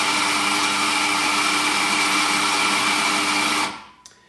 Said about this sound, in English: we move back onto the grinder as we did before, and just draw off the third shot